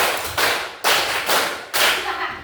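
Students in a class clap in unison in a short rhythmic pattern: four crisp, loud group claps spaced about half a second apart, near and with no voices over them.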